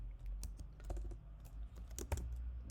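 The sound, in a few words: typing on a computer keyboard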